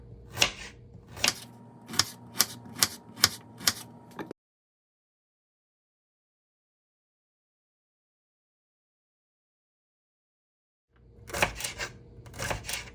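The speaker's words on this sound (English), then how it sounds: "Cut my carrot." A knife chops a carrot on a cutting board while preparing Jamaican pickled pepper, giving a quick, steady run of sharp, close knocks. A long silent pause follows, then a few more chops.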